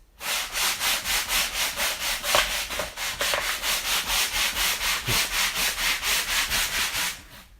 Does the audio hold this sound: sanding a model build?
yes